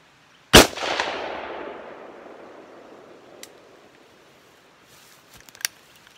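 A single sharp, loud gunshot from a Springfield Armory AR Saint short-barreled pistol at an outdoor range, with a long echoing decay and a few faint, distant clicks afterward.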